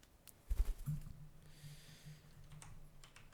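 A pet bird hops across a computer keyboard, setting off a quick burst of close, light key clicks followed by a few scattered taps over a quiet room hum.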